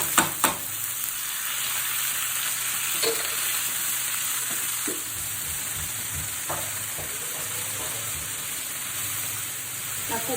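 Boiled jackfruit frying with curry leaves in a pan, a steady close sizzle with occasional stirring scrapes throughout, no talk.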